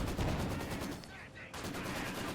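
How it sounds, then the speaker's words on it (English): Sturmgewehr assault rifle fire in a Company of Heroes 2 battle, a dense wash of rapid shots and battle noise that stays loud throughout, dipping briefly mid-way before resuming. "Sturmgewehr fire rakes them down"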